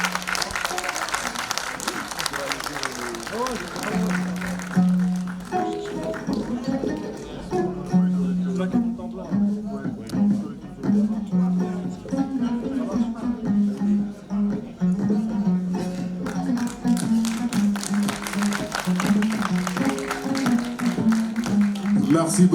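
Sustained audience applause fills the hall at the Daispora Awards ceremony in Paris, a steady dense clatter of many hands, while a voice speaks over it throughout.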